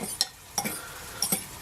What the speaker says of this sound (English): Let's now stir this in